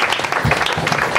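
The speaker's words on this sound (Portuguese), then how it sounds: "E aplaudimos fortemente" A church congregation claps loudly, with a burst of dense, close hand-clapping that runs without pause through the whole short moment.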